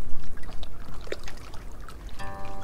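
Water pours and trickles in a steady, continuous stream at moderate loudness, with no voices over it for most of the stretch.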